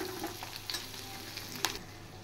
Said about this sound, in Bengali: পেঁয়াজগুলো হালকা ফ্রাই করে নিয়েছি